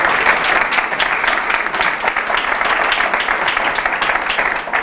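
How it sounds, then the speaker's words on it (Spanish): Loud, sustained applause from a large audience at a public speaking talk, dense clapping steady throughout with no pause. "hacedme un aplauso muy grande para animarme"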